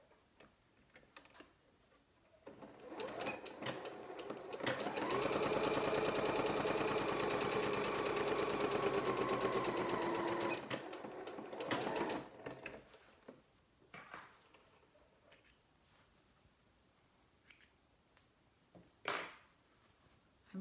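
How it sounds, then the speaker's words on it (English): A sewing machine stitches along the corner of a fabric basket, a steady close mechanical whir running for about five seconds after a few start-up taps, then stopping, with only faint handling clicks and no talk. "I'm going to sew along here and show you what it looks like"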